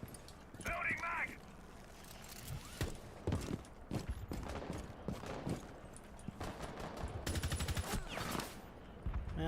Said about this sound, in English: Man, I'm literally shooting.